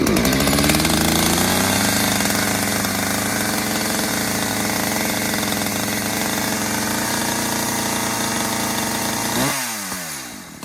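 An ECHO Timber Wolf CS-590 chainsaw runs after starting, its engine loud and close in a steady high drone. Near the end the revs drop sharply and the engine slows.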